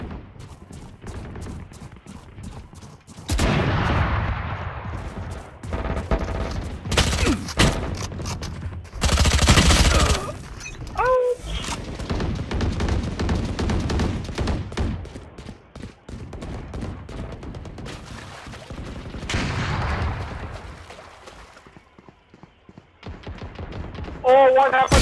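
Rapid automatic gunfire bursts and single shots from a Valorant match on the Split map, loud and repeated across the clip, with a player talking over the shooting.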